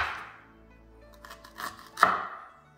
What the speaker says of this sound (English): what we have next is to slice our ginger